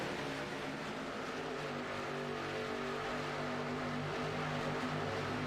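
In a Richmond stock car race in a racing video game, a pack of race cars roars away together at the green flag, making a loud, continuous droning engine rumble with no break.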